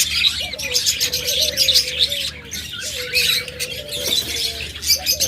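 A pair of pet budgerigars or lovebirds chirp and squawk close by, their calls loud, busy and overlapping with no pause.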